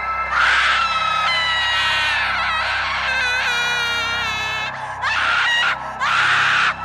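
A female ghost's scream of pain as a sound effect: loud, piercing wails rise and break off in several long bursts, shrill and strained, with nothing else beneath.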